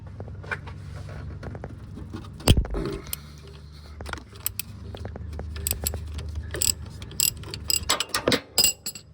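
A half-inch ratchet with an extension and shallow 12 mm socket works a lock nut loose on a 1996–2002 Toyota 4Runner, with rapid clicking pawl bursts, metallic clanks and tool handling up close.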